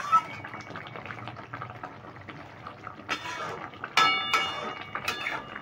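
Pomfret fish curry made with mustard and poppy seed paste bubbles on high flame, a faint steady simmer with soft clinks as the fish is turned, followed by louder bursts of bubbling near the end.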